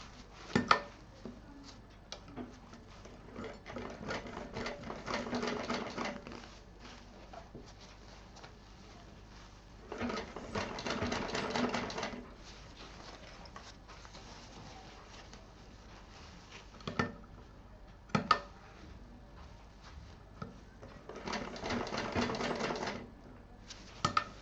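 A sewing machine stitching a DIY tiffin case, running in several short rapid bursts of stitching separated by quiet pauses while the fabric is handled.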